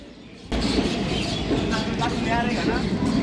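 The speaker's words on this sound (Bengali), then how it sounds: "দীর্ঘ প্রতীক্ষার পর অবশেষে কিন্তু আমাদের ট্রেন ঢুকছে।" A train pulling into a railway station on a trip toward Shimla and Manali, a loud sustained rumble and rattle that starts abruptly and continues with faint squeals, alongside platform bustle.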